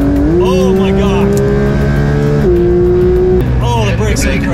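Porsche GT4 RS sports car driving on a track, its engine droning loud and close with pitch shifts through gear changes and acceleration, while someone talks excitedly over it.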